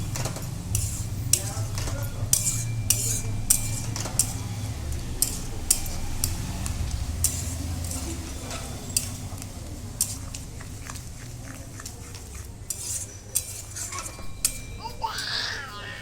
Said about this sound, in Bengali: জল দিয়ে আবারও নেড়ে দেবো